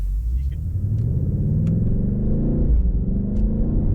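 The deep engine of a BMW M8 Competition sports car rumbles loudly up close, rising steadily in pitch as it accelerates over a few seconds, with a couple of faint clicks above the low growl.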